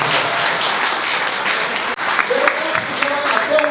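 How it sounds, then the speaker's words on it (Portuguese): An audience at a history lecture on authoritarianism applauds for Caixa Econômica Federal, dense steady clapping filling the room, with a brief dip midway and a speaking voice emerging over the tail. "uma salva de palmas para a Caixa Econômica Federal"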